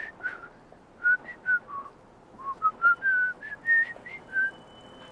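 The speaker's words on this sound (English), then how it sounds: "I whistle." Someone whistles a short, wandering tune of clear single notes, close and moderately loud, with brief gaps between phrases.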